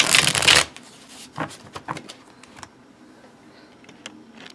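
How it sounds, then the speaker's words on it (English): A deck of tarot cards with sturdy cardstock is shuffled up close, a loud riffling burst at first followed by scattered softer card taps and slides that fade to quiet. "I'm going to go ahead and shuffle these"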